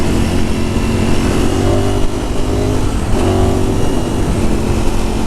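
A Ducati StreetFighter V4 S motorcycle engine revs loud and close in a continuous throaty roar, the pitch rising and dipping slightly.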